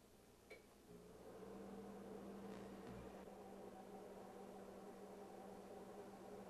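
A microwave oven reheating macaroni and cheese gives a faint, steady hum after a click and start-up, with a brief clunk partway through.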